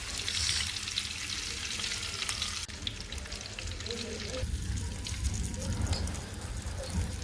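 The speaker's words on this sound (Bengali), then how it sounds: "এখন মাছ যে দুই পিস ভাজবো এটা ভেজে নিব" Steady crackling sizzle of two pieces of fish frying in hot oil, loud and close, with occasional stirring scrapes and faint voices in the background.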